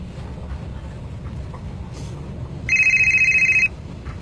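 A mobile phone rings with a steady, pulsing electronic tone for about a second over a low background rumble, with no talk during the ring.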